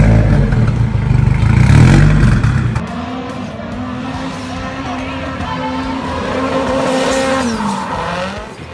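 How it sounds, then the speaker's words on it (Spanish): Race car engine roaring loudly with a heavy low rumble, then settling into a steady higher-pitched rev that rises and falls, heard up close without talking. "escuchemos el motor"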